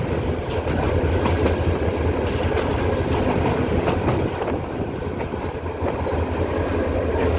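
A commuter train rolling past near Chittagong Cantonment station, a loud continuous rumble with rhythmic clickety-clack of wheels over rail joints, steady and close for several seconds, no talk.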